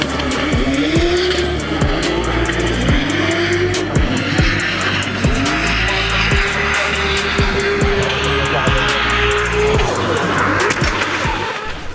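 Drift cars at the French drift championship final at Val de Vienne roar past with loud, continuous engine revving and repeated long tire squeals across the whole stretch, with faint voices in the background.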